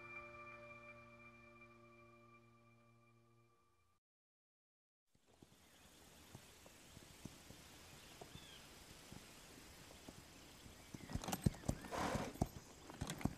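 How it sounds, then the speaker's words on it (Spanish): Horse hooves clip-clopping in the Breath of the Wild video game, a quiet steady gait that follows a soft musical tone and a brief silence, with a neigh and snorts close by near the end. "Mi caballo se siente más tranquilo cuando estoy relajada."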